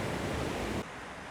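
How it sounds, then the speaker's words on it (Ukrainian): Small waterfalls below at Lake Tahoe give a dense, steady rush of falling water, loud and close, then cut to a quieter, thinner roar for the last half second. "Такі ось водоспадики."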